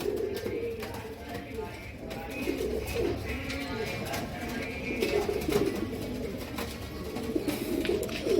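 Large Amritsari pigeons, an old Indian breed, coo in low repeated murmurs, with someone speaking nearby over the steady cooing.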